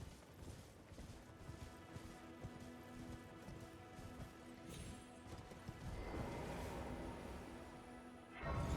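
Horse hooves clip-clopping in a steady run while riding on horseback in the game Elden Ring, a continuous busy patter under ambient game sound, swelling louder near the end.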